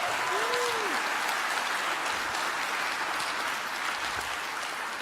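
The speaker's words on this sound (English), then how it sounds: "welcome all of our beautiful panelists today with a little round of applause" Continuous dense audience applause from a panel crowd at a gaming convention, loud and steady throughout with no talking.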